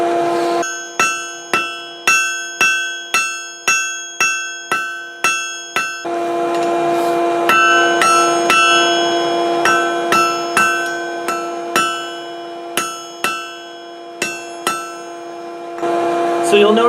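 Hammer blows ring out on a piece of steel being forged into tongs on an anvil, first in a quick regular series of bright metallic strikes, then after a pause in a more spaced, uneven run of ringing hits.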